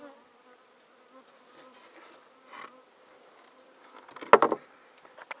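Honeybees buzz quietly around an opened hive being prepared for queen rearing, with soft scattered hums and one louder close pass near the end.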